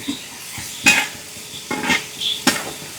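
Ingredients stirred and frying in hot sesame oil for a homemade tuna pickle, with close scraping stir strokes in a few bursts over a soft, steady sizzle.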